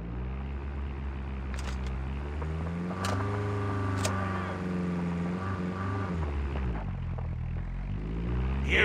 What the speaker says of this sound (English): Airdrop's coming.